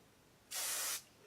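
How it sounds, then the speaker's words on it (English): A single short burst of Kenra hairspray hisses for about half a second, close and clear against a quiet room. "Once I have the roll established, I give it a nice spray."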